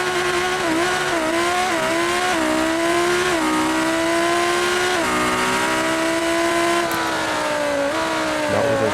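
Twin-turbo Lamborghini Performante built to around 1700 horsepower revs hard at full power, a loud, continuous high-pitched engine roar with rising and falling pitch as it shifts through gears, close and alone without voices.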